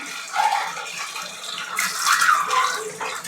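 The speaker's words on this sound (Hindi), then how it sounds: "देखिए दोस्तों इस तरह से हम अंडे को फ्राई कर लेते हैं, डाल करके फ्राई कर लेंगे।" Eggs fry in hot oil in a pan, making a close, continuous hiss and crackle that swells and eases in waves. No one speaks.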